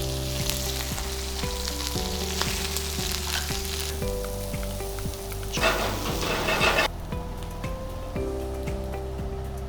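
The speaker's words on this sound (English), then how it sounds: "the technique I'm using here to cook the seafood is called searing, where we pan sear it on a moderate heat" Seafood sears in a pan over moderate heat, a steady close sizzle and frying hiss running throughout with a louder spitting burst in the middle, no talking.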